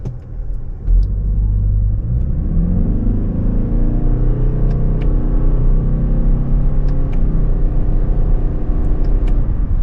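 A 2025 Toyota Crown Signia XLE hybrid with an eCVT accelerating in sport mode with manual paddle shifts, heard from inside the cabin as a loud, steady engine drone and road rumble that climbs in pitch after a brief quiet start.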